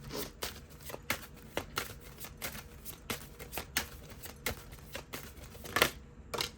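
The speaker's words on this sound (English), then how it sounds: "I'm going to get another card." Oracle cards being shuffled and drawn, a run of quick crisp riffling snaps and soft card slaps in an irregular rhythm, close and fairly quiet.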